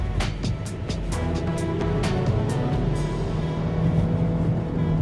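A Jaguar XF with a 3.0L V6 pulls hard from inside the cabin, a steady loud engine drone climbing in pitch with a rapid series of sharp clicks early on, continuous and close with no talking.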